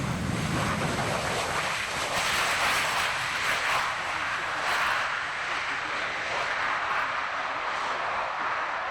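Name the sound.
Panavia Tornado jet landing using maximum thrust reverse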